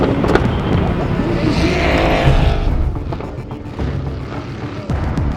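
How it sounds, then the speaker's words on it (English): Dirt track race car engine popping and rumbling loudly up close during a racing event, a sustained roar with sharp bursts and crackles throughout. "Right here, his motor popping."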